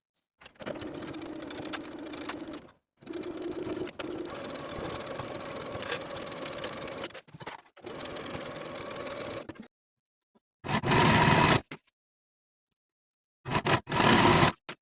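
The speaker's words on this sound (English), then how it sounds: "I'm going to be using my serger." A serger sewing and finishing the side seams of a cardigan jacket runs in several bursts, long steady whirring stretches separated by brief pauses, then two short loud spurts near the end, with no talk.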